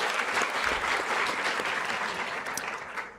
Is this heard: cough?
no